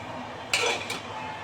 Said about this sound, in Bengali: একটু খুলে দেখি কেমন হলো